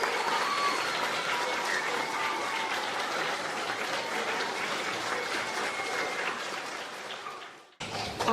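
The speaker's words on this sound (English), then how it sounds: "Let's all give them a round of applause." An audience at a fifth grade step-up ceremony claps in a long, steady round of applause that fades near the end, followed by a brief noise.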